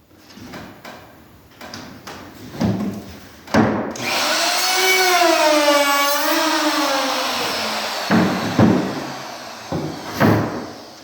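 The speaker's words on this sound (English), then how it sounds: "So there's my tenon cut." A power saw cuts a tenon in wood for a custom cabinet door, a loud whining cut of about four seconds with a wavering pitch, surrounded by close knocks and clunks as the piece is handled.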